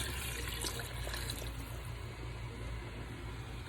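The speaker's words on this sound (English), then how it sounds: "fill it up with water so you can get all that seasoning out of the bowl" Tap water runs steadily into a bowl that held seasoning for oxtail, a continuous splashing rush from close by with no speech.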